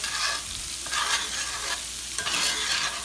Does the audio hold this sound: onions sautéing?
yes